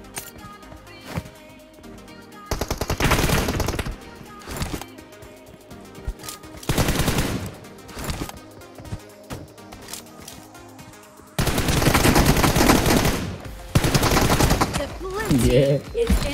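Automatic and single gunfire in PUBG Mobile, loud dense bursts of rapid shots separated by quieter gaps, with a long sustained volley near the end and sporadic distant pops between.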